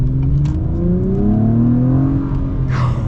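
A 2021 Acura TLX Type S with a 10-speed gearbox revs its engine, a deep, smooth exhaust note rising steadily in pitch and then easing off, heard from inside the car with no talk.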